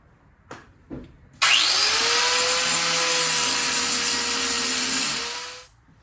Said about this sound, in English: I just want to grind off these sharp edges and not have anybody get cut.